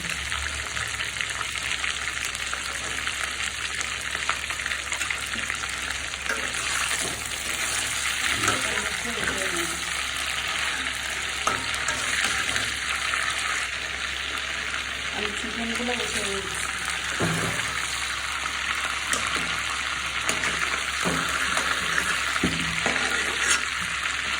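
Chicken pieces, salted and rested, frying in a pan for a chicken roast, giving a steady broadband sizzle throughout with occasional stirring clatter and faint voice in the background.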